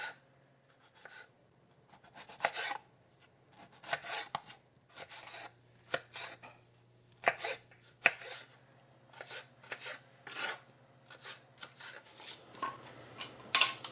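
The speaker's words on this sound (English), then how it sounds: "we are going to dice our tomatoes." Quiet knife chopping on a cutting board while dicing tomatoes, a string of soft irregular cuts with pauses between bursts.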